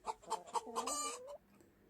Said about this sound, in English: I hear a cluck.